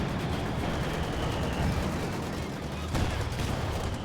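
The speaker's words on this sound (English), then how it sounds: "Somebody's shooting us!" Company of Heroes 2 battle noise with dense, continuous crackling gunfire and rumbling explosions, steady and loud throughout with a sharper impact near the end, while a voice talks over it.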